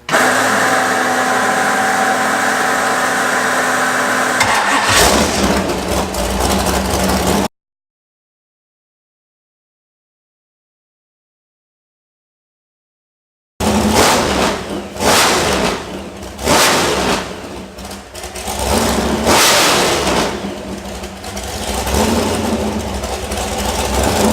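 A Mopar marine engine on a boat cranks and fires up, then runs with a steady mid-pitched idle and some rough revving, loud and close, with a gap of silence partway through.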